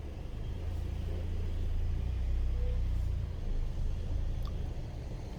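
A Honda Accord (2013-2017) reversing after new rear brake pads and rotors were fitted, heard as a low, steady engine and rolling rumble close by, with no squeal or grinding standing out.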